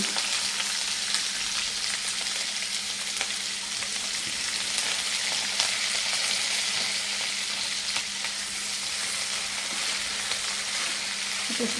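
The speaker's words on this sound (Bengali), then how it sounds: "পেঁয়াজটা একটু ভাজা ভাজা হয়ে এসছে।" Onions fry in hot oil with a steady, close sizzle and crackle that never lets up, with no voices.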